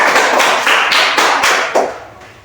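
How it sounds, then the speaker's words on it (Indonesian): A classroom group claps in unison, a loud, close series of sharp, evenly spaced claps that builds a brisk rhythm and then trails off at the end. "kita berikan tepuk tangan"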